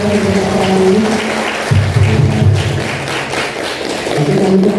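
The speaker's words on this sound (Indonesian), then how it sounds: "Boleh tepuk tangan saya lagi untuk hari ini." Students at a high school health promotion session give a speaker a round of applause, an even clatter of clapping with low droning tones underneath.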